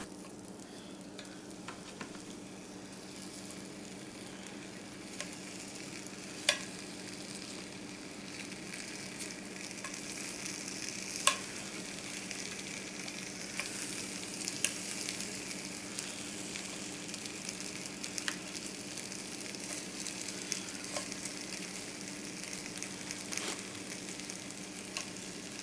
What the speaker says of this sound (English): I'm just going to stir that over medium heat until it thickens